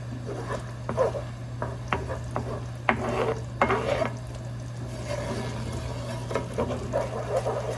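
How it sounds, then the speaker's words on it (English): A spoon stirring thickened chicken piccata sauce in a pan: soft, irregular scraping and gloopy clacks up close over a steady low electrical hum, with faint sizzling beneath and no talk. "Just stir this up. Make sure you get the lumps out."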